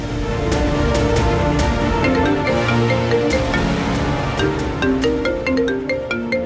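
A mobile phone plays a loud, melodic ringtone for an incoming call, its bright repeating notes continuing steadily with no talk.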